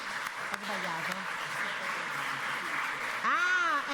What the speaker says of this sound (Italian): gli applausi per Giuseppe Denaro